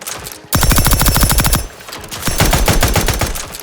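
Rapid automatic gunfire in the video game The Outer Worlds 2 comes as two loud sustained bursts of quick shots, close and alone.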